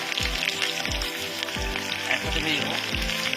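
Potato, onion, garlic and chili fry together in hot oil with a loud, continuous close sizzle, broken by regular low thumps of stirring roughly every 0.7 seconds.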